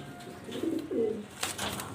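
Jharna satin pigeons cooing close by in a loft, two soft low rolling coos in the middle of the stretch followed by faint rustling and brief higher chirpy sounds.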